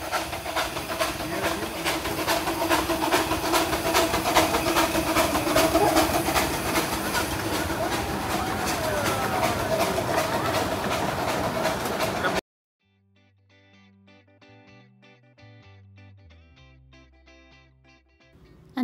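Miniature train rolling along a small railway track at a lido beach, a steady hiss and rumble with faint clickety-clack for most of the run, then cutting abruptly to a quieter passage.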